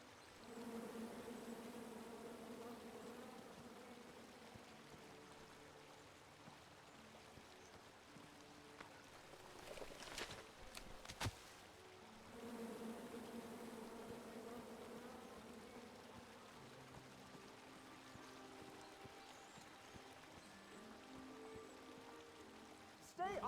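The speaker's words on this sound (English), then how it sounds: "Come at me, bees!" Bees buzz steadily in King's Quest, a continuous droning hum that runs under game sounds with brief louder effects in the middle, faint overall and with no speech.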